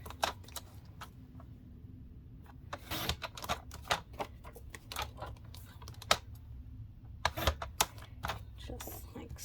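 Paper pictures are cut with scissors, two sheets at a time, in a series of close, crisp snips and rustles with uneven pauses, while a person talks quietly between them.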